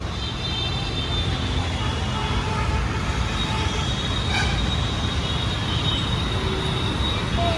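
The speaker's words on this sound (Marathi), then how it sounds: "तर आता आपण आहे मेट्रो स्टेशनजवळ" A metro train rumbles past near a metro station with a continuous steady roar of wheels and motors, a faint squeal rising briefly midway.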